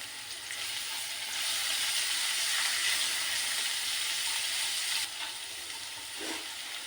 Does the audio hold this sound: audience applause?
no